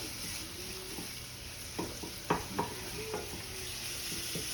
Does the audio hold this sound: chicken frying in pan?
yes